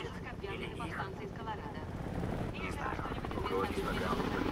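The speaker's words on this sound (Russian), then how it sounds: "Я слышу вертолет. Вон там, корейский вертолет разведки." A Korean reconnaissance helicopter in the shooter game Homefront gives off a steady rotor drone and wind-like rumble at moderate volume, with voices talking over it.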